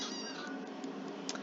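A house cat meows close by in an indoor setting, a drawn-out tonal cry followed by a short second call, heard over a steady background hiss with no talking.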